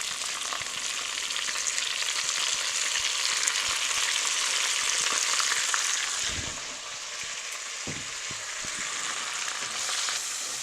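Wild leeks sautéing with bacon in rendered bacon fat, a steady close sizzle throughout with a few soft stirring knocks near the end.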